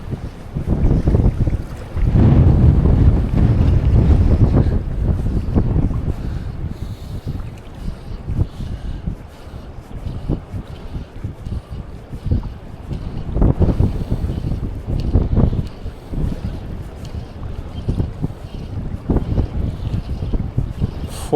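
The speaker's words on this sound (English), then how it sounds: "Wind really is getting wild there now." Strong gusting wind roars across a bay, buffeting the microphone aboard a fishing boat during fly fishing for pike; loud, continuous low rumble with surging gusts and no voices.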